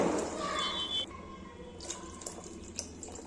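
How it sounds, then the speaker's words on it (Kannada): Water splashes into a cooking pot as two cups of water are added to rice for a tomato or vegetable bath. The pour runs steady and close for about a second, then gives way to quieter drips and small clinks. "ಅದೇ ಲೋಟದಲ್ಲಿ 2 ಲೋಟ ನೀರನ್ನ ಆ್ಯಡ್ ಮಾಡ್ಕೊಳ್ಳಿ"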